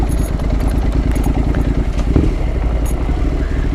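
Adventure motorcycle riding along a wet, slippery cliff track, its engine droning steadily and close throughout with a rough, clattering mid-range note.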